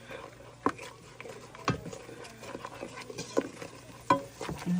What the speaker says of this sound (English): Just going to stir this.